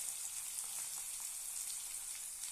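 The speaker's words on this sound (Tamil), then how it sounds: "அதையும் இதில் சேர்த்து நல்லா வதக்கி விட்டுறலாம்" Small shallots sautéing in hot oil with mustard seeds and urad dal, giving a soft, continuous crackling sizzle with no voices.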